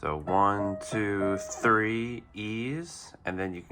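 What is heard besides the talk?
No everyday noise stands out behind the speech.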